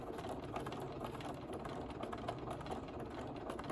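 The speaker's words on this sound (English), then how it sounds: "just sew out in the seam" A sewing machine runs steadily while stitching a seam around a circle, giving a continuous, fairly quiet mechanical whir with a fine rapid ticking rhythm and no voices.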